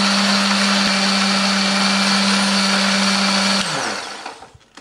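Kitchen blender grinds a spice paste of onion, shallot, turmeric and coriander with a little water, a loud steady whine that winds down and stops near the end.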